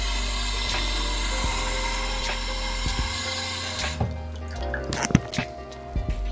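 Water trickles and drips into a Vitruvi Move essential oil diffuser over a steady electric hum, which cuts out midway, leaving small close splashes and clicks of handling.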